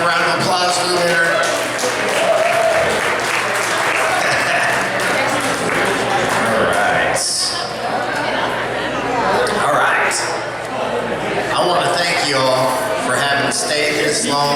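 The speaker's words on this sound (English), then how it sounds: "Let's have a round of applause for the winner." Audience applauding a winner, a sustained dense roar of clapping and crowd chatter filling the whole stretch, loud and steady, with voices mixed in.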